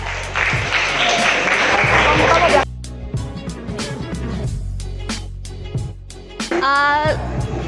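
Students clap for a classmate's answer in a class session, a loud burst of applause that cuts off abruptly, followed by quieter room sounds and some talk before a short rhythmic clapping returns.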